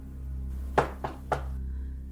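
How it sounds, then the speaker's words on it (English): Three knocks on a coffee table, spaced irregularly over about half a second, sounding close and moderately loud above a steady low hum. "She mimicked knocking on the coffee table."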